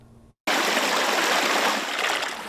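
Creek water rushing steadily over rocks, a loud, close, continuous wash that starts abruptly after a brief quiet gap and carries on without voices.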